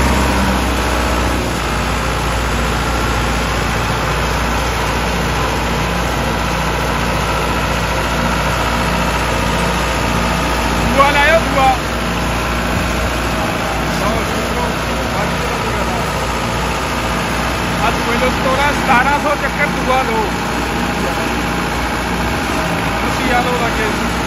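A Kartar 5936 4x4 60 hp tractor runs in low gear, its diesel engine giving a steady, close rumble with a constant mechanical drone and brief louder rattles partway through, with no clear voices over it.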